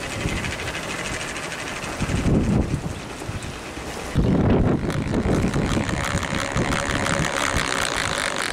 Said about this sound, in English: there's definitely plenty of wind for this thing, because it got so windy my tripod blew over